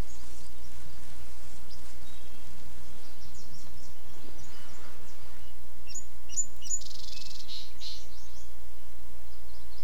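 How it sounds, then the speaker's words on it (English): Chirpy birdsong drifts through an outdoor scene in the point-and-click adventure game Gabriel Knight 2: The Beast Within, with scattered tweets and calls over a steady low ambient hum, moderately loud and without any speech. "The birds sure are chirpy today."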